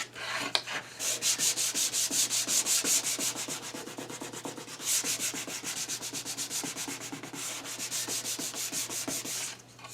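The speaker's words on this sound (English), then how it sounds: "I must not be sanding all the way to the corner" Steady hand sanding of a cherry wood square tray, rhythmic back-and-forth rubbing strokes, close and fairly loud, continuous for the whole stretch with a brief pause midway and no talking.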